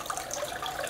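Water runs steadily over a Royal Manufacturing gold dust concentrating table, a soft, even trickling wash that stays faint and unbroken, with no talk.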